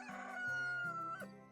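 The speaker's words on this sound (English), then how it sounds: "sounds like my chickens grew up, my chicks." Chickens in the farming video game Cropia, sounding one after another: a short series of crowing, clucking fowl calls in stepped tones, fairly quiet and clear with no talk over them.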